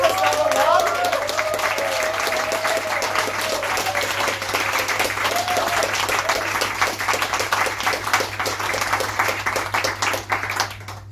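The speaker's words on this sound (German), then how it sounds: "hätte ich gerne noch mal einen riesengroßen Applaus an den Karl und an das ganze" Guests at a short-film evening give a team a long, thick round of applause, with some cheering voices over it early on and a steady hum underneath; it runs about eleven seconds before thinning and stopping.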